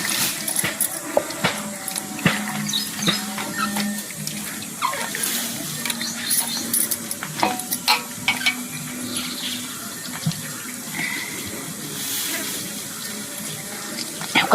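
Green mango being washed in water for a village-style mango takku, with steady close splashing and running water and frequent small knocks throughout.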